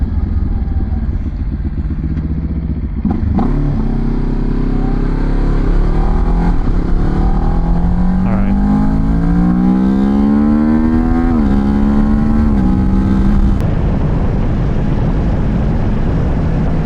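A motorcycle engine idles roughly, then revs up in a rising, slightly wavering whine before dropping back to a rumbling idle, close and loud.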